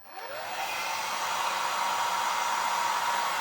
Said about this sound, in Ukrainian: Зараз чекайте, я згадав, фен є.